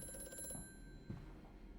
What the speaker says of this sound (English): Yeah, I will answer the phone, but later.